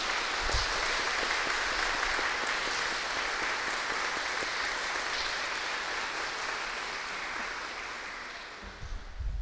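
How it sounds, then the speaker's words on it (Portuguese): An audience gives sustained applause after a lecture on resilience, a thick, even wash of many hands clapping that holds steady and tapers slightly toward the end, with no talk. "uma salva de palmas para ela"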